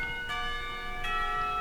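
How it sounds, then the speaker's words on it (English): A clock tower bell rings twice in the visual novel game Katawa Shoujo, each ringing strike sustaining a bright tone over quiet background ambience and signalling the end of a school period. "The clock tower bell rings, signaling the end of the period."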